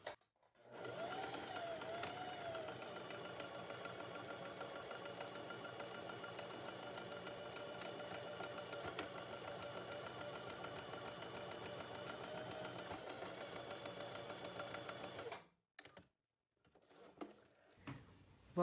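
A sewing machine stitching a blouse runs steadily and close for about fifteen seconds with an even mechanical hum and rapid needle rhythm, then stops abruptly, leaving a few faint handling clicks.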